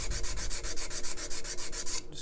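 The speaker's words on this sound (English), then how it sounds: "just with a bit of 80 or 120 grit sandpaper" 80 or 120 grit sandpaper worked over a wooden guitar heel in quick, even back-and-forth strokes, a close, rhythmic scratchy rasp of about a dozen passes.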